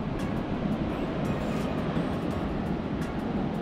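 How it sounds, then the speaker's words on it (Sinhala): Waterfall at Udagama Ella near Hulangala, Matale, Sri Lanka, a steady broadband rush of falling water, loud and constant throughout with no talk. "එහෙනම් දැන් මේ තියෙන ඇල්ල"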